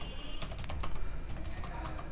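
Fast typing on a computer keyboard while entering a receipt voucher in Tally ERP 9, a close run of crisp, irregular key clicks with no talking.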